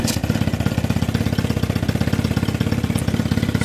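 A 1977 Evinrude 15 hp outboard motor running after a pull start, a loud close mid-pitched engine with a fast, even pulsing beat that holds steady throughout.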